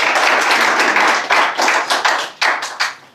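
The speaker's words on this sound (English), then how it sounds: "Let's clap for her again." Audience applause for a speaker at the launch of an apprenticeship program, loud hand clapping filling the room with sharp bursts that swell and fade in waves.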